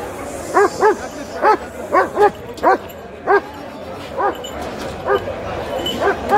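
Several dogs bark repeatedly at an outdoor weekly dog market, sharp near barks coming in an uneven series over a busy crowd murmur.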